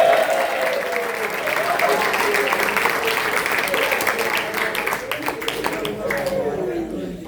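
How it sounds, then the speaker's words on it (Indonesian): An audience at a public lecture by an Islamic boarding school teacher breaks into sustained applause, a steady dense wash of clapping from a crowd, moderately loud and fading slightly at the end. "Beri tepuk tangan dulu buat Ustadz Anugrah."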